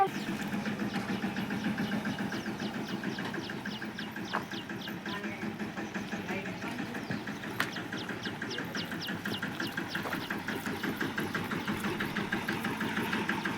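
A chhakda vehicle's engine runs at a steady idle with a rapid, even mechanical chugging and knocking pulse, close and continuous throughout, with people talking faintly underneath.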